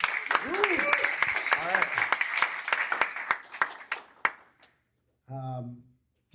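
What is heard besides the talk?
audience applause at startup pitch night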